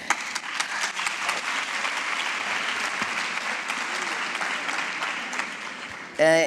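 A theatre audience at a season presentation applauds with sustained, dense clapping throughout, and a voice briefly begins right at the end.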